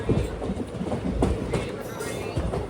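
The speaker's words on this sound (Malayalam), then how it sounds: "ട്രെയിൻ ഇപ്പോൾ ഇതാ ബിലിമോറ റെയിൽവേ സ്റ്റേഷനിലേക്ക് എത്തുകയാണ്." A train rolling into Bilimora railway station in Gujarat, with steady rhythmic clickety-clack of wheels over rail joints and a low rumble, close and continuous throughout.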